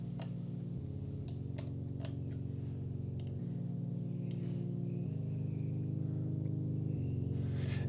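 A Diva synth pad layering noise with a saw wave, holding soft sustained chords that shift every second or two, with faint clicking ticks over the top; quiet and smooth, no voices.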